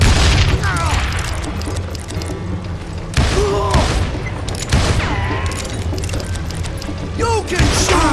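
Revolver shots crack out in Call of Juarez Gunslinger, several loud separate bangs spread across the span, each followed by ringing, clinking mechanical sounds. A voice talks between shots.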